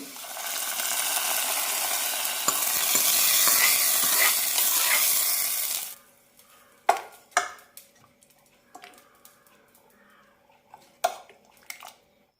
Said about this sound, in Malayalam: ചെറിയുള്ളി ഇതുപോലെ ചുവന്ന് കിട്ടുമ്പോൾ കറിയിലേക്ക് ഒഴിക്കാം